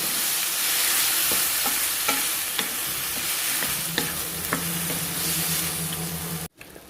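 Tomato pieces stirred and frying in a hot pan for a tomato-ginger chutney, a steady close sizzle with repeated scraping clicks of the spoon, ending abruptly.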